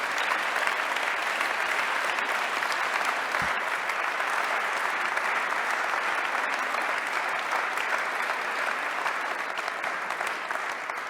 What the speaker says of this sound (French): Et on peut tous applaudir Alban